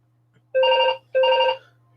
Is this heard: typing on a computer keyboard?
no